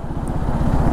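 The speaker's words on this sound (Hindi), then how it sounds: "so now the bike is crawling eight 2nd gear and speeds of 15 km/h" A KTM 390 Adventure motorcycle crawls along in second gear at about 15 km/h, its single-cylinder engine giving a low, steady chugging thump with a faint high whine, close and continuous.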